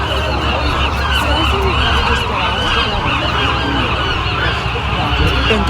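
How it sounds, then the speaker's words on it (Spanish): A dense, loud flock of geese honks continuously amid other birdcalls outdoors on Alcatraz Island, with faint voices underneath. "Se enloquecieron los pájaros, no sé qué pasó."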